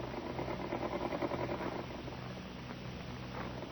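A sewing machine runs with a busy rhythmic clatter that stays steady at first, then drops into a softer, thinner hum partway through, with no talking.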